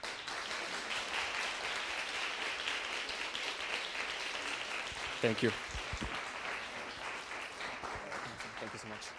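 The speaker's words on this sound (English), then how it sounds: "Another round of applause," An audience applauds a panel at an architecture event in Venice, steady clapping throughout with a brief spoken thanks from a nearby voice partway through.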